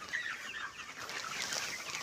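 A flock of broiler chickens at a poultry farm keeps up a continuous, overlapping chorus of clucking and chattering at moderate loudness, with no speech.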